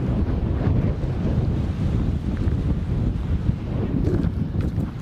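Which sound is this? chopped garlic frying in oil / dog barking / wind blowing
wind blowing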